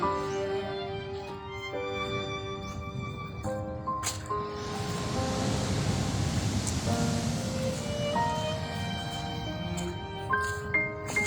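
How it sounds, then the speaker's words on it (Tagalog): Large sea waves churn during Tropical Storm Kristine (Trami) at a coastal site, a broad rushing surge that swells and recedes beneath steady wind noise, with faint tonal hums layered throughout. "malaki na yung alon."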